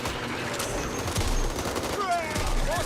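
Sustained gunfire in the co-op shooter game Back 4 Blood, a steady burst of shots mixed with game noise and occasional voices throughout.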